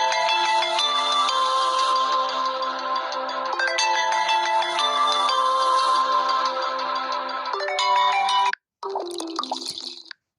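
Honor 90 Lite phone ringtone called Nature, a bright melodic tone pattern with watery drip-like notes, loud and looping, cutting off briefly before starting again.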